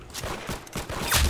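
Gunfire from a shooter video game, a quick burst of several sharp, close shots in rapid succession over about a second.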